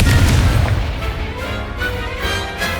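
Spell impacts from a Hogwarts Legacy duel, including Levioso, Expelliarmus and Confringo, land as loud booming blasts with a rumbling low tail and a few lighter magical hits trailing after.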